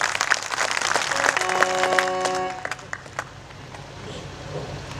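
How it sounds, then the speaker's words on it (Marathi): A live audience at a Marathi comic sermon by Satyapal Maharaj claps together, a dense burst of applause that thins out and fades over a few seconds. "टाळ्या टाळी."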